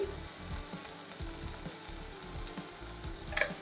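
Tomato and raw jackfruit sautéing in a pan, giving a steady close sizzle with soft stirring scrapes and a brief sharper clink near the end. No one speaks.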